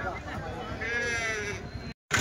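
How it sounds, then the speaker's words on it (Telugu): A Nellore sheep bleats in a long wavering call close by at a livestock market in Kadiri, with voices talking over it before a brief cut. "నెల్లూరు జుట్టు ఇవి పొట్టేళ్ళు గొర్రెలు."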